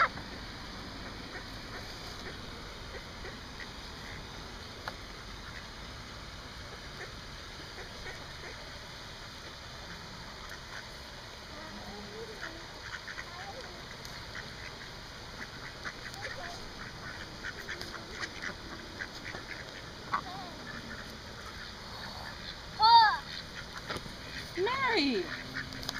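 Ducks quack in short bursts near the end, louder around the last few seconds, against a steady outdoor hiss with voices talking at times.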